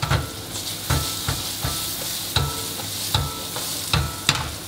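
Mushrooms and garlic fry in a hot pan with a steady sizzle, broken by regular scraping clatters as they are stirred and turned roughly once a second.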